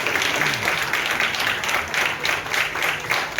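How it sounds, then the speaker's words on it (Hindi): Loud, dense applause from an audience at a Hindi-language memorial celebration event, a steady wash of clapping that holds at full strength throughout. "एक बार फिर तालियां प्लीज जोरदार।"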